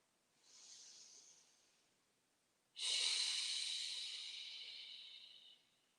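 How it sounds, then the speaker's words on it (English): Two breaths during a yoga pose, each an airy hiss: a soft inhale, a pause, then a longer, stronger exhale trailing off, close and quiet with no talk. "and breathe"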